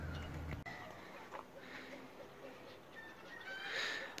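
Silkie hens cluck and murmur softly in short bursts, with a brief sharp knock early on and quiet background ambience.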